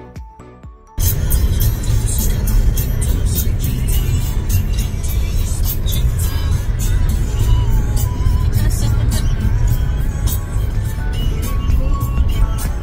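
A car cruising along a quiet Sumatra toll road, its steady road and tyre roar starting abruptly after a brief quiet moment and holding loud and even throughout, with no speech.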